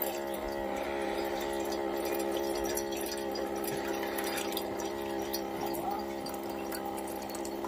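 Water poured steadily into a vessel for making butterfly pea flower tea, a continuous close trickle running alone and without pause.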